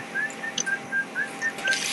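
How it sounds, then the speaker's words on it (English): A thin, high whistle repeats in short even notes, fairly quiet against a faint background. "There's whistling in this video"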